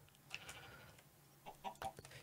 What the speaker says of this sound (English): Let's get these chickens though.